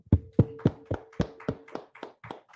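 About nine firm hand claps in a steady, slightly slowing rhythm, close and distinct, from a congregation at the closing of the Feast of Tabernacles gathering in Durham.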